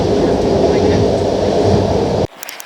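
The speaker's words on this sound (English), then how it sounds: "This is us in Slovakia on a 6-hour train ride." Steady broadband rumble of a train ride in Slovakia, a continuous loud interior rolling roar that cuts off abruptly near the end, leaving quiet faint sounds.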